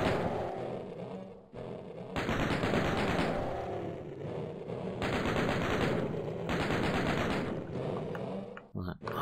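Rapid gunfire in Doom II on Nintendo Switch, bursts of fast repeated shots over game noise, loud and close, with pauses between volleys and a final flurry near the end.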